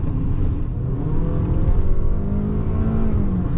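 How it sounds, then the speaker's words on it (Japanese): A Toyota Harrier's engine with CVT drones loudly and continuously on a public road, its pitch climbing steadily as it revs up to about 6500 rpm under acceleration. "CVT と思えないぐらいエンジン吹けますよ"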